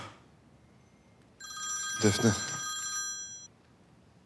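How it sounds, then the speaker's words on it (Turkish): A telephone rings with a bright electronic warble for about two seconds, fairly close and clear, with a faint voice speaking briefly before it. "Telefon çalıyor."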